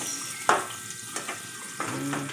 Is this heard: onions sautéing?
yes